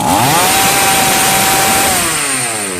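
A chainsaw engine runs at a loud, steady high idle close by while its carburetor H screw is adjusted, the pitch holding nearly level before sagging slightly at the end.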